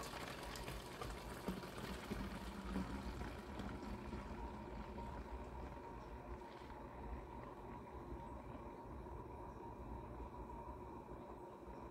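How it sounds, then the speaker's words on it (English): Soapy cleaning mixture of liquid soap and water poured into a container, a steady watery rush that runs continuously at moderate level with sudsy fizzing, no voices over it. "I should have poured slower because I'm afraid, yep, I knew the suds were going to come up."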